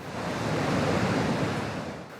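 Super typhoon winds and storm surf lash Rota island in the Northern Marianas, a steady close roar of wind and crashing water swelling briefly before easing off.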